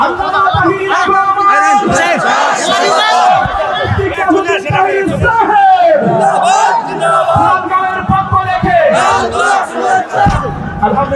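At a large outdoor Islamic religious gathering, a crowd chants and cheers loudly in unison, answering a leader's call in rhythmic shouted responses, with a voice on a loudspeaker leading the chant.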